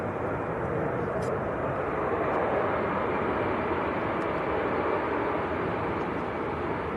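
Airbus A320 on the runway at Manchester Airport in crosswinds, a steady broadband engine roar holding at even loudness throughout, with faint voices in the background.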